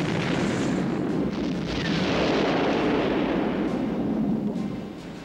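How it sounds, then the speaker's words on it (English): A munitions ship explodes at the dockside: a continuous, loud, rumbling roar of blasts and debris that swells midway and fades slightly at the end. "God, they were really big explosions."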